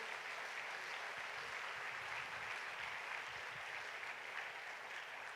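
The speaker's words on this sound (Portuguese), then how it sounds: "pode aplaudir o Senhor." A church congregation claps during a worship service, a faint, even wash of many hands that carries on unbroken for several seconds and seems distant and quiet.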